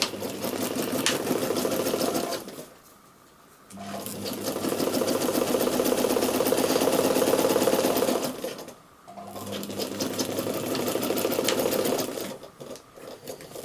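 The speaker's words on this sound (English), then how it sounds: "this time you're going to sew 1/4 of an inch, so double what you did before" A sewing machine stitching a quarter-inch French seam along a bag handle runs in three long, steady bursts, each a dense mechanical whir close to the mic, separated by short pauses.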